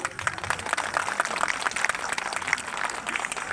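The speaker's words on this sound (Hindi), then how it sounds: "और इसी तालियों की गड़गड़ाहट, जो कि गड़गड़ाहट जैसी बिल्कुल भी नहीं लगी" A short burst of light, scattered applause from a modest audience, steady clapping for a few seconds with no voices over it.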